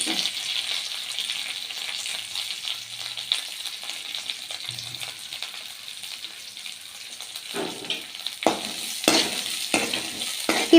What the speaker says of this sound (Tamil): ஒரு கடாயில் எண்ணெய் ஊற்றி சோம்பு வெட்டி போட்ட பூண்டு கருவேப்பிலை வெங்காயம் சேர்த்து நல்லா இப்போது